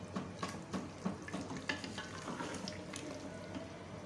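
Tinda gosht, mutton with apple gourd, frying in oil in a pan, a soft steady sizzle with occasional stirring clinks and scrapes, close and quiet, no voices.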